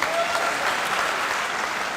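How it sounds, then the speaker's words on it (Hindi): Steady, full applause from a poetry-recital (kavi sammelan) audience at a college hall, clapping for the event's host without break from start to end. "एक बार इनके लिए थोड़ी तालियां दे दीजिए"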